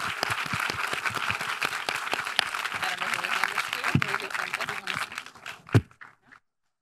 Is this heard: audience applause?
yes